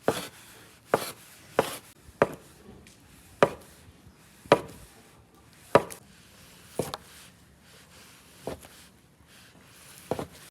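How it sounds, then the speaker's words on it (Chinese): A kitchen knife chops side vegetables for spicy maoxuewang on a cutting board, a dozen sharp, well-spaced thuds ringing out close and clear with quiet pauses between strokes. "把配菜切一下，切成碎心大小都管"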